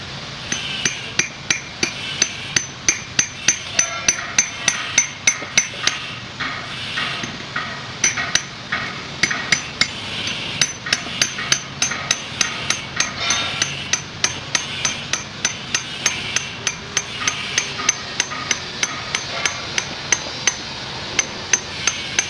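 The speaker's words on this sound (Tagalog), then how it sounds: "Tapos, pupukpukin yan, boss. Pupukpukin, dahan-dahan." A tube is hammered into an oil cooler during a leak repair, giving a long, steady series of sharp, ringing metallic taps at a regular rhythm, loud and close, with no talking.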